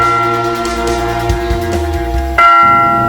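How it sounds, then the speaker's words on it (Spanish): A church bell rings with sustained, resonant metallic tones that overlap and decay, then a fresh loud strike near the end, close and clear with no voices. "La clave se producía cuando hacía sonar la campana"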